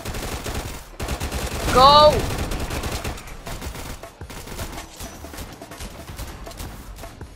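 A minigun in a Roblox zombie game fires rapid bursts close and loud under a shouted voice, with a sharp spinning whine near the middle, then scattered gunfire continues behind.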